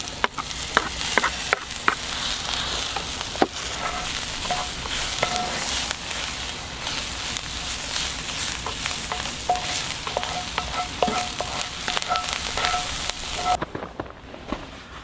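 Chopped garlic sizzles steadily in a hot skillet while cooking in a van, with scattered sharp clicks and scrapes of stirring over a constant frying hiss, close and moderately loud.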